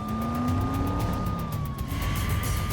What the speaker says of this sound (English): the officer turns on the siren and accelerates through traffic